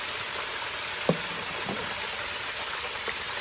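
A faint, steady sizzling hiss of chicken frying in hot oil in a deep fryer, with a few soft clicks and bubbles popping, quiet and continuous.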